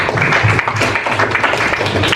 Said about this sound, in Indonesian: Beri tepuk tangan untuk Irwansa ya.